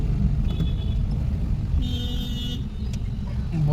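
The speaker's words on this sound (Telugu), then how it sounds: "హెవీ ట్రాఫిక్ ఉంది ఐస్ ఈరోజు" Steady low rumble of road traffic with engines droning close by, a brief horn-like tone rising over the constant vehicle noise.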